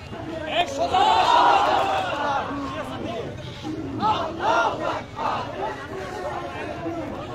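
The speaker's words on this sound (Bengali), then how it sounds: "দিল্লি না ঢাকা, ঢাকা ঢাকা স্লোগানে উত্তাল কেন্দ্রীয় শহীদ মিনারের সামনে সড়ক" Protest crowd on the road in front of the Central Shaheed Minar chanting rhythmic slogans in unison, loud and close, with voices rising and falling in repeated call-and-response phrases.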